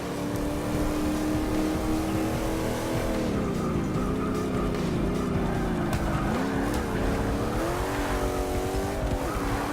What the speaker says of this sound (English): A little bit of tire spin there, not too bad.